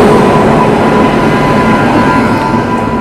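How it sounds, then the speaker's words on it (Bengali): A train pulls into a Kolkata station with a loud, close, continuous rumble of wheels and cars and a steady high squeal from the rails. "ট্রেন আসছে, ঢুকছে ট্রেন"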